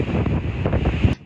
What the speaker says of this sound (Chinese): 台风山陀儿来袭，高雄大风吹不停